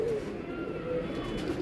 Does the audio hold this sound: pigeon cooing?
yes